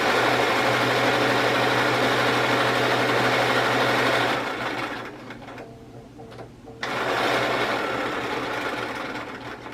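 A sewing machine stitches quilt squares in a steady, loud whirring run that eases off briefly and then resumes at full speed.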